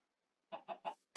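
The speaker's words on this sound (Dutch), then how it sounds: "Een kip, nice." A Minecraft survival chicken clucks three times in quick succession at close range, followed by a short burst of another game sound, with no talking.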